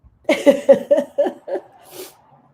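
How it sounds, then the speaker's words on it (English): One person lets out a rapid string of about six loud, voiced sneezes close to the microphone, evenly spaced, then trails off into a soft exhale. "Achoo! Achoo! Achoo! Achoo!"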